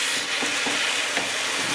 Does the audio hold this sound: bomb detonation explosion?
no